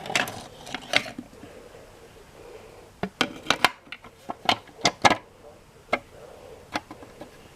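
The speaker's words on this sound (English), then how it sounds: "all I really have to do is hold it like that while I wind the bobbin" A Singer 237 sewing machine's bobbin winder, running with the lid loose and unscrewed, gives scattered sharp mechanical clicks and rattles in short bursts over a quiet background.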